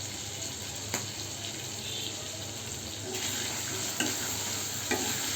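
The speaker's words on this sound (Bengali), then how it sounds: "এভাবে করেই নাড়তে হবে, নাড়ার করেই থাকতে হবে, তা না হলে নিচে লেগে যাবে।" Food frying in a pan is stirred steadily, a continuous sizzle with a running-water-like hiss and a few light scraping taps of the spoon against the pan.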